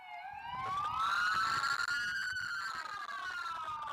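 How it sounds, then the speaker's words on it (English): A wailing siren rises and falls steadily, loud and continuous, at the Kansas City Chiefs victory parade, with faint background noise beneath it. "The speaker at this point is being drowned out by the sirens in the background"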